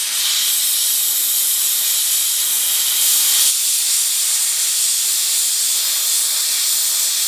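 A hot air plastic welder blowing while welding a round headlight grille on an Isuzu Trooper, a steady loud airy hiss that holds without pause throughout, with no talk.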